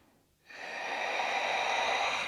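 One long, deep breath during a yoga flow session, a steady airy inhale or exhale that rises after a brief quiet start and holds close and even.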